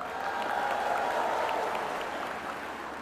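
A crowd applauds and cheers for Indonesian minister Erick Thohir at an official ceremony, steady dense clapping with scattered shouts, fairly loud and sustained throughout with no talk over it.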